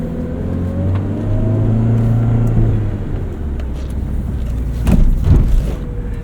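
A 1991 Honda Civic Si EF hatchback drives from the inside with its straight-cut gears: a close engine drone carries a thin tonal whine that rises and falls with speed, swelling briefly louder near the end, with no talking.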